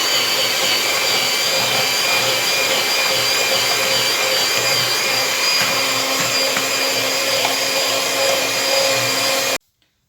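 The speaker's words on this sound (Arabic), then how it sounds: "اما الطراب هذا ديال الكهربائي هذا. غادي نطربهم حتى يطربوا مزيان" An electric hand mixer beats eggs and sugar for an economical cake, giving a loud, steady motor whir with the metallic whisk hum running unbroken and close, then cutting off abruptly at the end.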